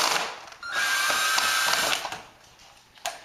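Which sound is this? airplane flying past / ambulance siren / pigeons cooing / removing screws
removing screws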